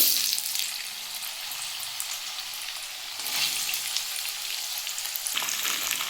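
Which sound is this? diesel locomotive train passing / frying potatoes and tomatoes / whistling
frying potatoes and tomatoes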